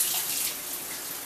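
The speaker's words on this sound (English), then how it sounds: "now I have to wash my hands again." Water runs steadily from a kitchen tap as hands are washed beneath it during fruit preparation, a close, continuous hissing splash with no talking.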